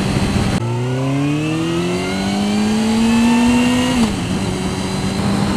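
A Suzuki GSX-R 750 motorcycle engine revs smoothly upward in a rising whine while being ridden, then drops sharply in pitch at a gear change and settles into a steady drone.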